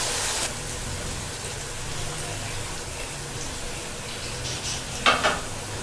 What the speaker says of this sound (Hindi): अब हम इसमें कोफ्ते ऐड कर देंगे।